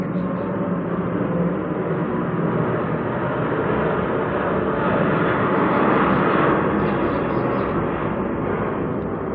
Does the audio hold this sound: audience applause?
no